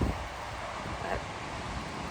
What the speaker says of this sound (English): I think the wind is picking up